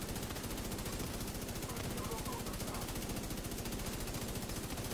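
Rapid gunfire and explosions from The Division 2 video game form a dense, continuous loud barrage throughout.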